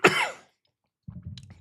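A single sharp cough rings out, followed after a brief pause by a low rough throat-clearing rumble.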